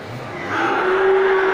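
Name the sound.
Limousin cattle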